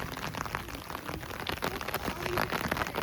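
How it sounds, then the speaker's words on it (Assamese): Steady rain falls on surfaces in a park in Cherra, a dense, even patter with scattered louder drops, fairly close and unbroken. "একেৰাহে বৰষুণ দিয়ে আছে"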